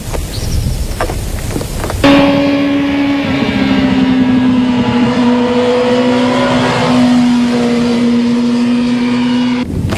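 A motorcycle accelerates hard out of a corner, its engine note holding a steady high pitch that wavers slightly after a sharp onset, loud and close with wind rush and no talk.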